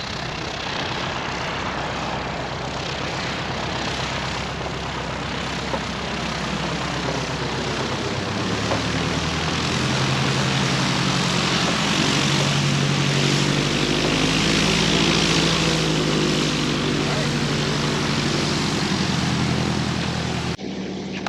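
A Zenith Super Duty propeller airplane in flight, its engine and propeller droning loud and steady from start to finish, the pitch and intensity swelling slightly partway through, with no voices.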